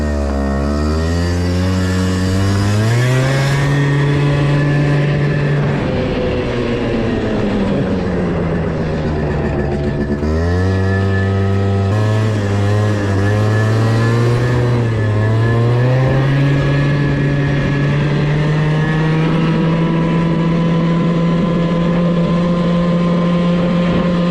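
A small 50cc scooter engine revs up and shifts through its range while riding, a steady buzzing drone rising and falling in pitch, loud and close throughout.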